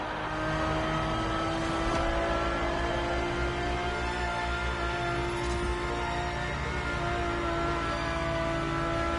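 A race-derived sports car with a carbon fiber monocoque chassis, its engine holding a loud, steady high rev with a sustained whining tone, close and unbroken with no voices.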